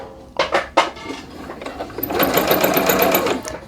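A sewing machine runs a long basting stitch on jogger fabric, close up, starting with a few short bursts and then settling into a steady whirring run of rapid needle strokes.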